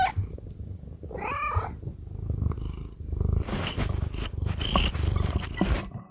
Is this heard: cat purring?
yes